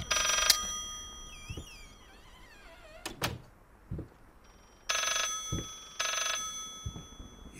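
An old telephone rings repeatedly inside the horror game Layers of Fear, bright metallic bell bursts spread across several seconds. Eerie warbling tones, door thuds and a creak sit between the rings, and there is no talk.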